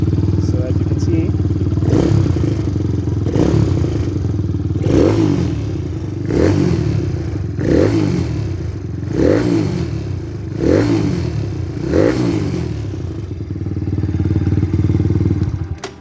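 A Kawasaki Z125 motorcycle fitted with a Takegawa kit revs repeatedly, about eight sharp blips in a steady rhythm over a constant idle, close and loud.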